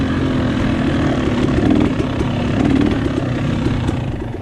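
Four-stroke dirt bike engines at a hare scramble race, a steady loud buzzing drone of several motors revving nearby with rising and falling pitch, no talking.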